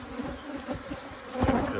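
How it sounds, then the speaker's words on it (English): Honey bees buzz around a beehive stacked with deep boxes above the excluders, a dense close-up hum with swelling pitch as individual bees pass near. "bees are building up great"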